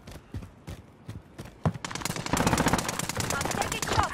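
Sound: gunfire, Call of Duty video game

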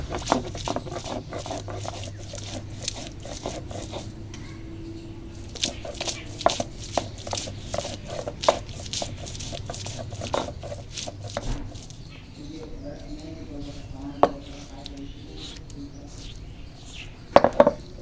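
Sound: crushing and grinding ginger and garlic for paste

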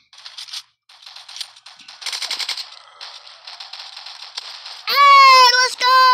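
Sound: grenade and gunfire in Roblox video game

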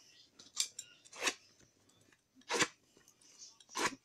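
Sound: cutting a slit in paper with a craft cutter

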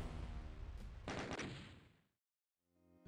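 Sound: video game death explosions

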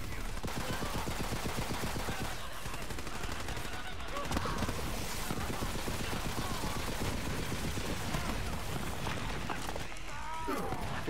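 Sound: gunfire in the video game Borderlands 3

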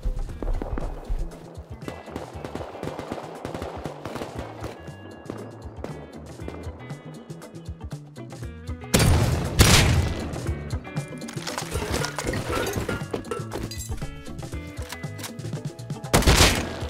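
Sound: gunfire from many players in the video game Rust

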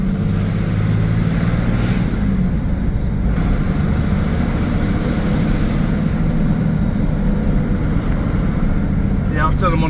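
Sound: 12-valve Cummins diesel truck engine driving

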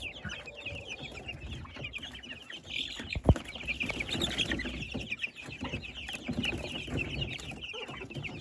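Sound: chickens and chicks clucking in a chicken coop

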